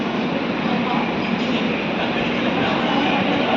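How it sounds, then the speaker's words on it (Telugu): Passenger train made up of ICF coaches departing Kacheguda, a steady loud rumble of running wheels and carriage noise filling the whole stretch without pause. "కాచిగూడ నుంచి మన ట్రైన్ ఆన్ టైమే తీశాడు 750కే"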